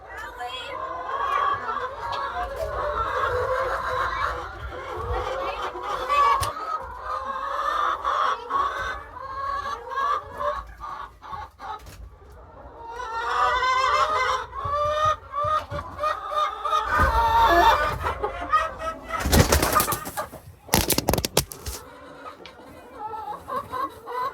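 Laying hens clucking and squawking nearby, a busy flock with overlapping calls, with a brief loud rustle or clatter partway through.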